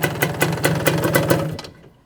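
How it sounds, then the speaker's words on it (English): A small two-stroke race quad engine idles with a fast, uneven putter, pulsing a few times a second before sputtering down and fading out near the end. "Trying to idle. There we go. Idling a little bit."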